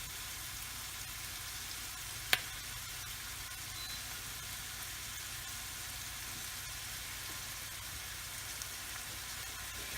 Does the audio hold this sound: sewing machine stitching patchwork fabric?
no